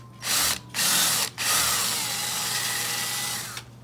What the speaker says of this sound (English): So I drill a little hole